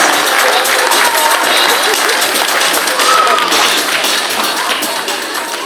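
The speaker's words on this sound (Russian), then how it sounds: "Ваши аплодисменты, пожалуйста" Festival audience applauding a group after their first performance on stage: dense, steady clapping from a large crowd filling the whole stretch, loud and continuous, fading slightly toward the end.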